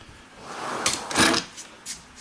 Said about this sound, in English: So these are full extension, soft close drawers as well, and it just works so well.